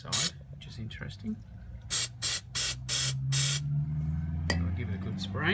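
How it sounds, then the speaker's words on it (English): Aerosol cleaner sprayed onto a car's mass air flow sensor in several short, sharp hissing bursts, close and loud, with quieter handling noise around them. "Just give it the adequate spray to clean it."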